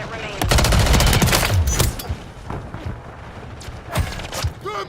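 Rapid automatic gunfire crackles loudly in Call of Duty: Warzone, a dense burst through the first two seconds followed by scattered shots, explosions and shouted voices in a chaotic firefight.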